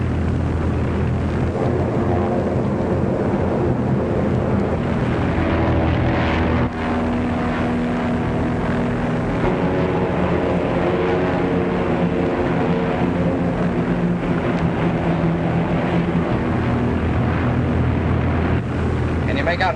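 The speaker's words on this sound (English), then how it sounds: "Navy planes. More Navy planes?" Navy propeller planes flying overhead in a 1936 aviation film, a loud, steady engine drone that fills the whole stretch without letup.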